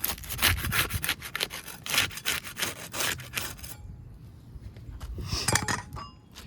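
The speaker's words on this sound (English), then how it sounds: "We use a putty knife to unseal the top shingle." Steel putty knife scraping and prying under asphalt roof shingles to unseal them, a run of quick rhythmic scrapes close by, then a pause and a few more sharp scrapes and clinks.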